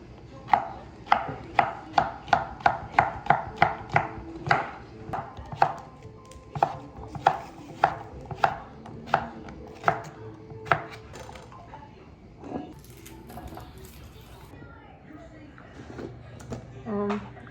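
Cucumber being chopped on a cutting board for cucumber salad: a fast regular series of knife thuds, then slower scattered cuts, close by, with a voice speaking at times.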